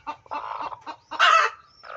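Hens clucking inside an egg-laying coop, a series of close, bursty clucks and cackles with one louder squawking call near the end, no talking.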